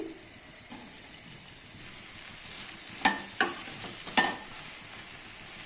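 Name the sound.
frying okra pieces in oil in a pan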